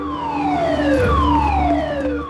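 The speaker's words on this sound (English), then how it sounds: "I heard the sirens going off at the station." Sirens wail at a coastal lifeboat station, a loud, steady rising-and-falling tone with several overlapping sweeping pitches that fills the whole stretch with no talk.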